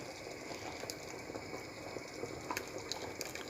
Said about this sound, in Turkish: içerisine boşaltıp hızlıca karıştıralım.